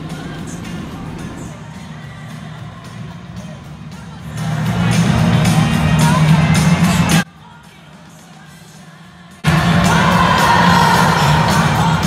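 A large stadium crowd at Wembley cheers and roars at half-time of a women's football match as British players come over to greet the fans. The noise is loud and sustained, cuts out briefly to near silence, then returns at full volume.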